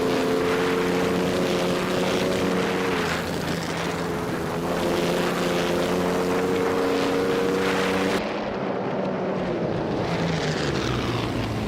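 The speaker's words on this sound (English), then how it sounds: "XOSS is driving a Maserati 8CTF, which is known for its powerful engine and iconic V8 sound" A Maserati 8CTF V8 engine roars continuously in a racing video game, a loud, steady buzzing drone that sweeps in pitch as the car accelerates and shifts, with no talk.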